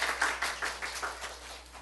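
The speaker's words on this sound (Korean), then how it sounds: "그렇게 하실 하나님께 박수 올려드려요" A church congregation applauds in a short burst of rhythmic hand claps, moderately close, fading slightly as the clapping trails off.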